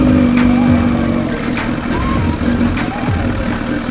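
A car engine runs as the vehicle pulls slowly away beside a lake after a long drive, a steady low rumble with slight rises and dips in revs, close and continuous throughout.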